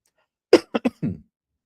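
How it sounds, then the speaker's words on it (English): One ill person coughs a few times in a short burst, the last cough rougher and drawn out, close to the microphone with silence around it. "Sorry with my coughing, a little under the weather."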